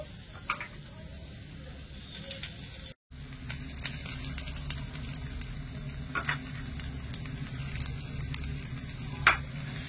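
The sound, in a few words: mashing boiled potatoes by hand into frying spices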